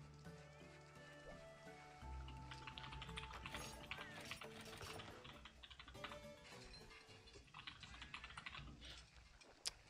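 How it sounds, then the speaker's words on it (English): Rapid computer-keyboard typing clatters close by in an irregular stream of soft key taps, with a steady low hum running underneath. "I'm like in the middle of typing."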